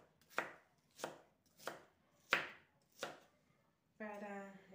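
A knife chops onion on a board in five sharp, evenly spaced strokes, close and distinct against near silence, before a person starts talking.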